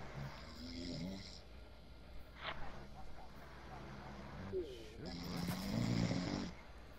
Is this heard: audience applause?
no